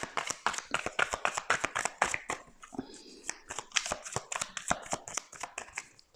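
Oracle cards being shuffled by hand in a steady run of quick, crisp riffling taps and flicks, close and fairly soft, with a brief softer pause in the middle.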